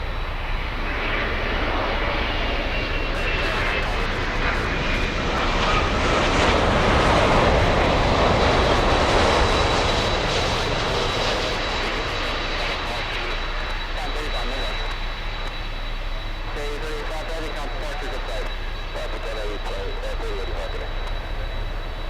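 A Lufthansa Boeing 747 lands at Miami airport, its engines a loud, steady roar that swells toward the middle and then eases off over about twenty seconds, with people talking over it.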